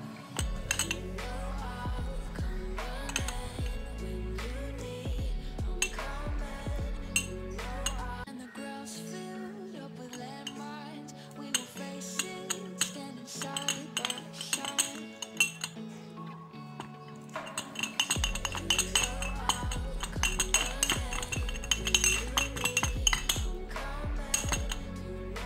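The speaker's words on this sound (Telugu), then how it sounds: "ఇప్పుడు మనకి పాలు ఎంత కావాలనో క్వాంటిటీ దాన్ని పట్టించేసి మనం ఇందులో మిక్స్ చేసుకోవాలన్నమాట" A spoon mixing honey and milk in a bowl for a skin-care recipe, producing rapid repeated clinks and scrapes against the bowl. The clinking is close and busy, eases off through a quieter middle stretch, then picks up again.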